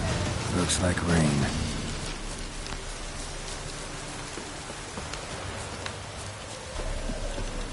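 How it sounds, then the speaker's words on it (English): Steady rain hisses across the scene in The Witcher 3, a constant even wash of falling drops with low rumbles beneath, while someone briefly speaks over it near the start. "Looks like rain."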